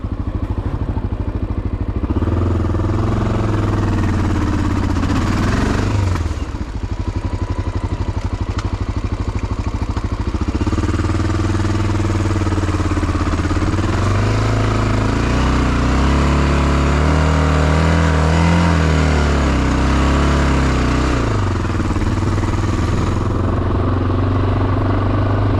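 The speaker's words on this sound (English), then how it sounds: "Feel that heavy bike just sink through that snow." A heavy Honda XR650L motorcycle climbs uphill through snow on a mountain trail, its engine loud and close throughout, with revs rising and falling as it labours through the drifts.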